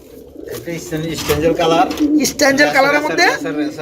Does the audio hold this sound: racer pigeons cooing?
yes